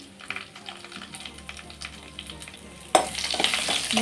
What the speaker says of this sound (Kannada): ಬೆಳ್ಳುಳ್ಳಿ ಜಜ್ಜಿಟ್ಕೊಂಡಿದ್ನಲ್ಲ ಬೆಳ್ಳುಳ್ಳಿ ಹಾಕ್ಕೊಳ್ತಾ ಇದ್ದೀನಿ. ಚೆನ್ನಾಗಿ ಫ್ರೈ ಆಗಲಿ.